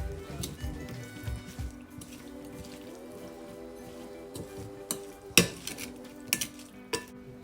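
Spicy fresh mackerel salad being stirred in a bowl, with soft repeated scraping and squishing of utensils against the dish, a few sharper clinks near the end, steady and close.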